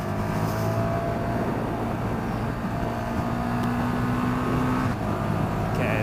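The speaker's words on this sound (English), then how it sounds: "using the quick shifter in the much higher revs feels a lot better." A 2017 KTM 1290 Super Duke R motorcycle engine drones steadily at high revs with pitch steps from quick-shifter gear changes, accompanied by constant rushing wind noise.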